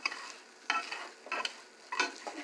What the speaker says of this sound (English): Frying some eggs and all that type of stuff.